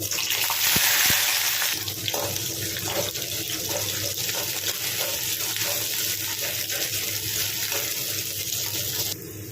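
Onion frying in oil with dried red chilli and urad dal for a tomato curry gives a loud, steady hiss, close and continuous, with a brief sharper burst near the start.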